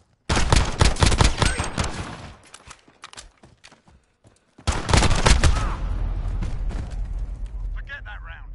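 Video game gunfire crackles in dense rapid bursts, loud and close, then drops away and returns as a sustained roar of shots and rumble, with a voice speaking amid the noise.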